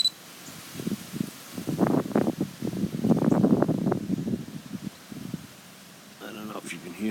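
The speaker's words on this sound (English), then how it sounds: "The wind is kicking up." Gusting wind outdoors just after sunrise, a rough rumbling roar that swells in the middle and eases off, with a person speaking over it.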